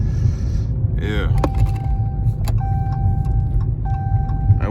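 Car pulling hard from a standstill toward sixty at night, heard from inside the cabin under new star lights: a steady, loud low rumble with faint chime-like tones on top.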